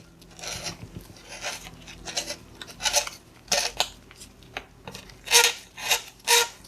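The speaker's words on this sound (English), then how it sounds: "So if so, we're going to use the reamer and ream it." A hand reamer scrapes the cut edges of a plastic riser tube for a calcite acid neutralizer tank, a series of short rasping scrapes that grow louder and more rhythmic toward the end, with no talk.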